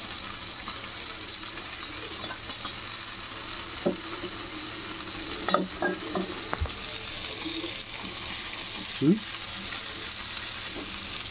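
Fish sizzles steadily in hot oil in a village kitchen, a continuous hissing fry with occasional scraping and knocking as the pieces are stirred and turned.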